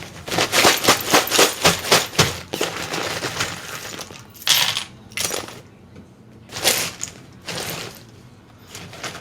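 Astro dice and charms tumble and clatter onto a surface, a dense burst of rattling hard clicks for about two and a half seconds, then a few shorter separate rolls and bounces, close and fairly loud.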